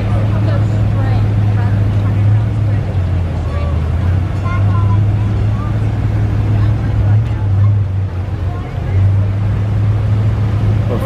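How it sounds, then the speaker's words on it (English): An official pace car rolls along an Independence Day parade route in Hayesville with a steady, low engine hum up close, while voices and crowd sounds carry over it. "Official pace car."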